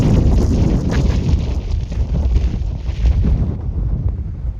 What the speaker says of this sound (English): Intense wind on the summit, like blowing people over.